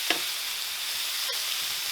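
Tomatoes dropping into a hot frying pan with salt already in it give a steady, close sizzle, with a faint stirring scrape near the start and another brief clink partway through.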